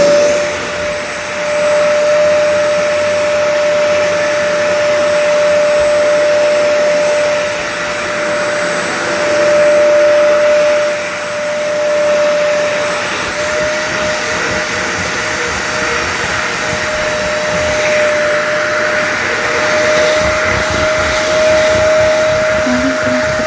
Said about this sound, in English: Okay, everybody stay down, okay? Mommy has to vacuum.